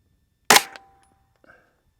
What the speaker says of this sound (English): Let's just keep shooting. I'm gonna aim for the head.